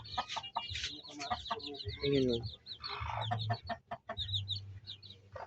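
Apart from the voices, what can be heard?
chickens clucking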